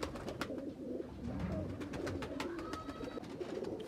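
Pigeons coo softly and repeatedly nearby, with scattered flutters and clicks in the background.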